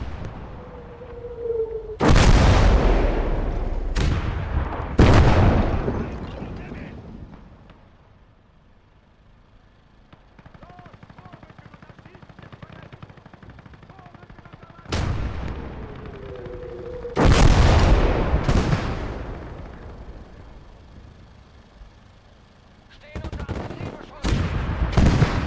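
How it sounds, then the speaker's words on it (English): A field gun on the anti-infantry role in the Call to Arms: Gates of Hell Ostfront battle between USSR and German forces fires repeated loud booming shots. The blasts come in clusters with rumbling gaps and distant battle noise between them. "And then our field gun, our anti-infantry gun, should also start kicking off."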